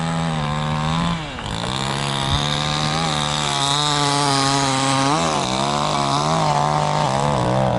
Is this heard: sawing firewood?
yes